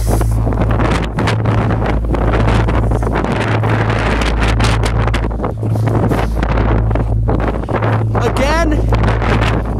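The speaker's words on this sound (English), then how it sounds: "I need to apologize about the wind." Strong wind buffets the microphone continuously on the winter summit of Cascade Mountain in the Adirondacks at -15°F, a loud, steady roar with rhythmic low gusts, while people talk underneath.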